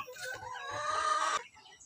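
Free-range chickens cluck close by, then a rooster lets out a long, loud crow that cuts off abruptly, with no one speaking.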